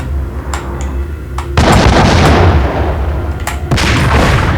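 Gunfire in the PS2 game Max Payne, landing a headshot: two loud, booming shots close together, each followed by a sustained roaring burst of noise, with faint clicks and pops before them.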